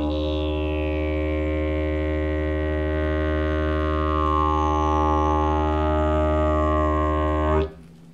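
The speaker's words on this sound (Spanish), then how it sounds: "Eso es apretar los labios y tocar enfrente del didgeridoo." A didgeridoo plays a basic drone, a deep steady buzzing tone rich in overtones. It is sustained close and evenly for about seven and a half seconds, its timbre shifting slightly, before cutting off abruptly.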